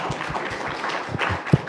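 Audience at a Toastmasters District 123 conference claps in a brief burst of scattered, moderately close hand claps over about two seconds, with one louder clap near the end.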